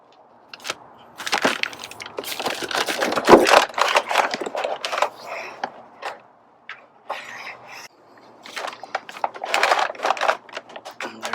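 A wrench works loose the oil drain plug on a Ford Raptor during a home oil change, giving a series of close, sharp clicks and metallic taps in irregular bursts, with short quiet gaps between.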